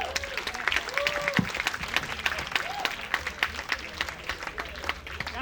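A comedy show crowd at an outdoor pier stage applauds comedian Chris Estrada, steady moderate clapping and cheering that carries throughout at mid-distance, with a host's voice briefly over it.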